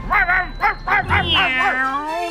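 A dog gives a quick series of close, yappy barks that slide into a drawn-out whine, loud and right in front of the listener.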